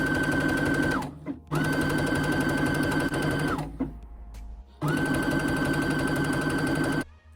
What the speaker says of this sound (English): I will stitch 3/8 all the way through, and at the end return the stitch to the stretch stitch